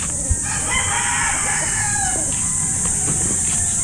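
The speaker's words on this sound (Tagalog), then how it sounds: "Pinakain ko na yung manok" Farm chickens cluck and a rooster crows in a steady outdoor din, with a constant high hiss throughout.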